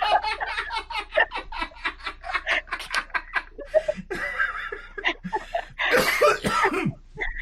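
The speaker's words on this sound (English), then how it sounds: "I laugh so hard I cough" Coughing fits mixed with hard laughter from a person at a tabletop fantasy role-playing session, a few bursts of chuckles breaking into harsh coughs, close and loud, with some talk from others around.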